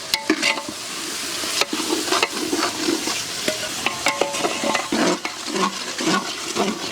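Tomatoes and masala frying in a large pot for Chettinad chicken kolambu, stirred vigorously with repeated scraping strokes over a continuous loud sizzle and bubbling, with no talking.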